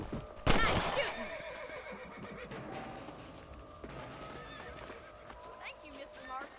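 Horses in the Western game Red Dead Redemption whinny and clop their hooves, with a loud burst early on and softer hoof sounds and neighs afterward, mixed with voices talking.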